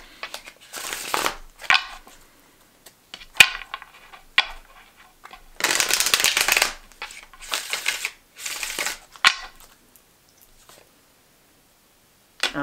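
Tarot cards being shuffled in several separate bursts of crisp riffling and slapping, close and fairly loud, with short quiet gaps between bursts and no talking.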